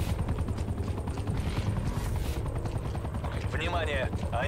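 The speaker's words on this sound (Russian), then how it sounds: "Внимание! Они вызвали ударный вертолет." Attack helicopter in the game Call of Duty: Black Ops Cold War, a steady loud rotor drone running throughout with scattered gunfire-like bursts and game voice announcements over it.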